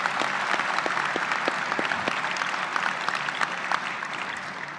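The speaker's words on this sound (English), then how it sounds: "Please join me in a round of applause for this tremendous team." Steady applause from a large audience at a military change of command ceremony, dense clapping throughout at a constant loud level.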